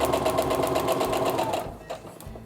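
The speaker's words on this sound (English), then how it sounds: "So I'm going to go ahead and stitch using that tiny stitch," A sewing machine stitches a paper-pieced quilt block with a tiny stitch, running in a fast steady whir of needle beats close by, then stopping with a few faint clicks.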